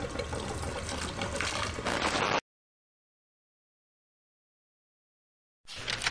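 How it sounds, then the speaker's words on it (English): Fresh 93 octane fuel pours into the tank of a Honda CRX, a steady close hissing, splashing stream lasting a couple of seconds before cutting out. "I stepped out and got some brand new fresh 93 octane fuel, and let's go ahead and pour it into the CRX"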